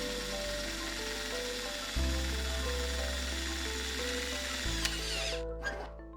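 A power drill bores a 1/4 inch hole through a pilot hole, a sustained motor whine that shifts pitch twice as the load changes, then spins down with a few clicks at the end.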